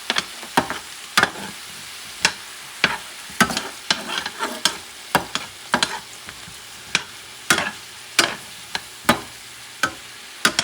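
Cod paella ingredients with smoked paprika being mixed in a pan, sharp repeated spoon scrapes and knocks over a light sizzle, close and fairly loud, with no talking.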